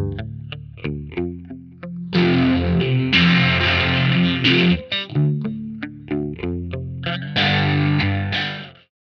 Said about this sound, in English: There is a massive selection of amp sims and presets to choose from here.